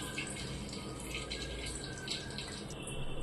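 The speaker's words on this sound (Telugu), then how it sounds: "కొద్దిగా వాటర్ వేస్తూ కలుపుదాం." Water trickles steadily into bajji batter as it is mixed by hand in a bowl, a soft continuous pouring and sloshing with light splashy flecks, fairly quiet and without speech.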